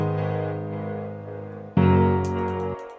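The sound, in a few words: piano chords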